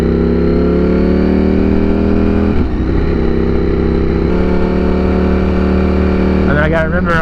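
Ducati Streetfighter V4 motorcycle engine while riding in second gear, a loud steady droning roar with a brief dip as revs change and a voice talking over it.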